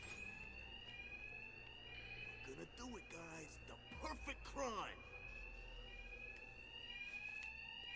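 Fire alarms ring steadily in Batman: Arkham Knight, a continuous high electronic tone across the whole stretch while voices talk over it midway.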